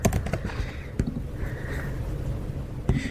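Steady, close clatter of fingers typing on a computer keyboard to enter a username, with a few louder key taps standing out from the continuous stream of clicks.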